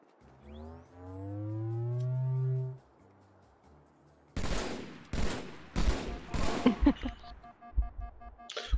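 Shotgun blasts in the Halo video game ring out as a burst of several loud, sharp shots in quick succession, following a rising electronic whine.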